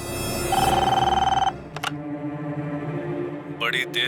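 A telephone bell rings in repeated rapid trills for about a second over a dramatic musical score, then breaks off as the handset is picked up, with a brief clatter and electronic tones after.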